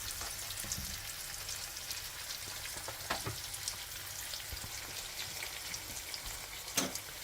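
Hilsa fish fries in hot oil, a dense, close crackling sizzle that runs steadily throughout, with a few sharper pops and spatters standing out, and no voices.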